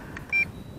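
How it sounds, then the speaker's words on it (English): An MJX Bugs 6 entry-level racing drone on its lowest rate setting gives one short, clear electronic beep in a quiet room. "got it in the lowest rate, one beep."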